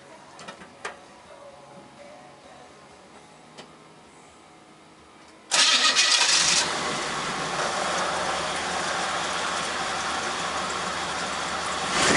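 A 1969 Impala's 327 V8 cranks and fires after a carburetor rebuild, jumping from quiet ticking into a loud, steady idle heard close from the passenger side.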